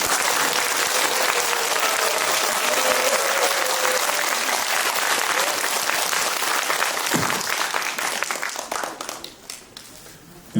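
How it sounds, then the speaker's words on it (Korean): Sustained, dense applause from a hospital staff audience welcoming Father Kim Yong-tae Matthew to a spiritual lecture, steady and loud for about eight seconds, then thinning into scattered claps before fading. "김용태 마테오 신부님을 큰 박수로 맞이해 주시기 바랍니다"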